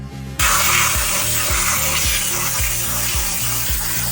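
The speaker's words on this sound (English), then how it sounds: "we'll just spray on some expanding foam" Expanding foam hisses steadily and loudly from a spray can onto the background of an empty tank being built into a desert canyon, with a rhythmic low thumping running underneath.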